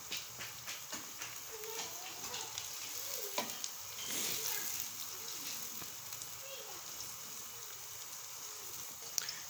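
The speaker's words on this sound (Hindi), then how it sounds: "ये देखिए कि ये जो है फ्राई होना शुरू होता जा रहा है और आंच जो है वो आपने तेज़ रखनी है" Onions fry in mustard oil over high heat, a light sizzle with occasional crackles and stirring scrapes, fairly quiet and close.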